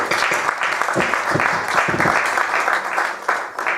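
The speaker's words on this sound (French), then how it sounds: "Est-ce qu'on peut acclamer pour le Seigneur?" A church congregation claps together for the Lord, a loud, dense wave of applause that carries on steadily with some cheering voices mixed in.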